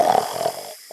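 A person imitates snoring with the voice during a tabletop role-playing game session, one rough, rattling snore lasting most of a second before trailing off into a small breathy snort.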